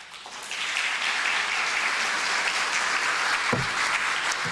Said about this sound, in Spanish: Démosle por favor un fuerte aplauso.